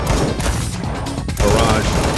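Quick melee punch combo in a fighting video game, a rapid run of hard impact hits layered over busy game effects, loud and close.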